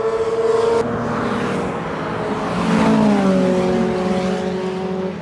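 Race car on a drying wet circuit during a first test day, its engine note holding steady and then rising in pitch as it drives past, with a sustained, fairly loud drone throughout and no voices.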